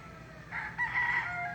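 A game chicken rooster crows once nearby, a short raspy call rising after a brief start, clear over a low background hum.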